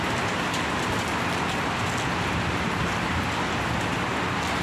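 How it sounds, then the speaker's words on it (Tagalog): Heavy rain pours down in Kuwait as a dense, steady roar that stays constant and loud throughout, with no distinct thunderclaps and no voices. "sobrang lakas ng ulan"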